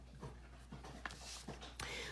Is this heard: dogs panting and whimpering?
yes